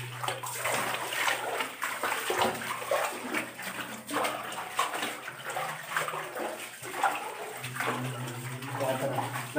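Water flowing and trickling inside Brahmamgari cave at Ravvalakonda after rains, a steady close wash with splashy bursts, under people talking in the echoing space.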